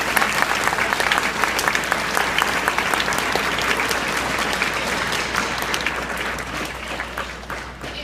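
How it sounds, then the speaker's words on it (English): Parents and guests at an intermediate school fall concert give a big round of applause, a thick, sustained roar of many hands clapping that holds steady for several seconds before tapering slightly at the end. "we'll give kind of one big round of applause to all of them."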